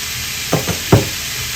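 Meat sizzles in a frying pan with a steady hiss as a spoon scrapes through it in three quick stirring strokes, close and fairly loud.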